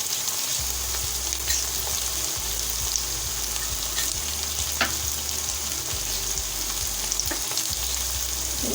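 Amaranth leaves frying in a pan with salt and turmeric, a steady close sizzle with soft scattered stirring scrapes and faint low hum throughout, no talking.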